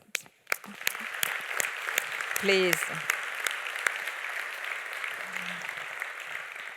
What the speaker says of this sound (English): for all this team, applause